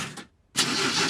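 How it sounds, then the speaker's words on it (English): A cartoon engine coughs briefly, cuts out to near silence, then catches and runs with a rough, steady sputtering rumble, close and moderately loud. "I will now start the engine."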